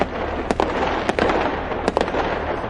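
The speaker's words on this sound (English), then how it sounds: "The fireworks were constant now." Fireworks go off outside at night in constant bursts, with loud sharp cracks over a continuous rumbling, crackling wash of distant explosions.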